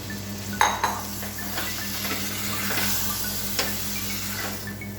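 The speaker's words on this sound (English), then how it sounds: "this requires a very little frying, just sauteing just for about a minute and a half." Quiet pan cooking of chopped tomatoes, onions and coriander leaves with a light sizzle, a few sharp clinks of utensil against metal and occasional stirring scrapes, steady hum underneath.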